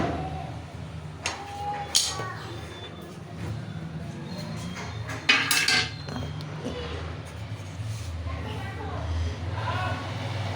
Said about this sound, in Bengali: এটাকে ভালো করে একটু এদিক সেদিক নাড়িয়ে নিব